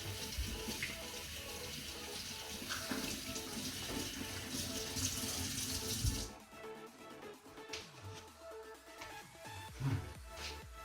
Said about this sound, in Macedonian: Овие и ги измиеме убаво со ладна вода.